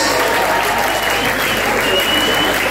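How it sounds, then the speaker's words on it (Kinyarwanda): A crowd at an awards ceremony breaks into loud, continuous applause, a dense, steady wash of many hands clapping close by for the whole stretch. "Amashyi menshi baje, amashyi menshi."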